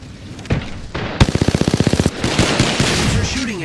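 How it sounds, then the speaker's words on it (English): Rapid machine gun fire in a video game combat scene: a couple of sharp single shots, then a fast, loud, close burst of evenly spaced rounds, followed by dense rattling fire and clatter. "Taking fire. Taking fire."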